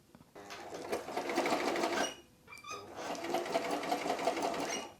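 An old sewing machine, kept 36 years and once owned by a great-grandmother, runs in a steady whirring clatter close by, stops briefly, then starts up again and keeps running.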